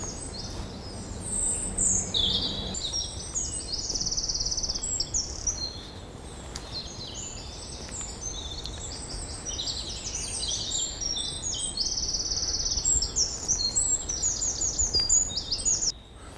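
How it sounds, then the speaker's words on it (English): A wren sings loud trilling phrases ahead in winter woodland with ivy-covered trees, bright repeated bursts carrying over a steady hum of background noise throughout. "Got a loud trilling of a wren ahead of us."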